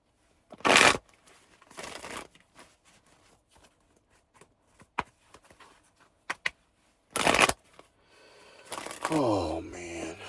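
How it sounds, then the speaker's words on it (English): Tarot cards being shuffled in a few quick riffling bursts with short soft riffles between them, close and dry, ending in a stretch of louder mixed noise. "Let me shuffle right quick, and we're gonna see what this is right quick."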